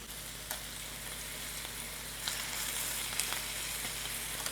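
Chicken pieces browning in one pan for chicken fettuccine alfredo give a soft, continuous sizzle and crackle, fairly faint, with a few small pops and no voices.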